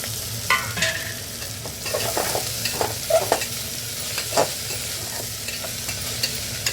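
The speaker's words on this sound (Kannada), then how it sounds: "ಲೋ ಫ್ಲೇಮ್ನಲ್ಲಿ ಫ್ರೈ ಮಾಡ್ಕೊಳ್ಳಿ." Bitter gourd and chopped tomato fry in a pan over a low flame. A gentle, even sizzle runs throughout, with a scattering of spoon scrapes and taps as the mix is stirred. No one speaks.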